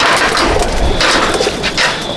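Madrasi pigeons in a loft give a loud, close, low throaty coo over a rushing wash of ambient noise, one short rolling call in a brief stretch with no talking.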